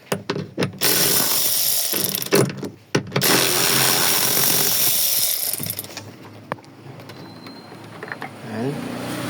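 A ratchet removes nuts from the rear evaporator of a 2010 Ford Everest, giving close bursts of metallic clicking and clanking early on, then quieter handling noises, with no clear speech.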